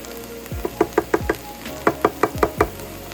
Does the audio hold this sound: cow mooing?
no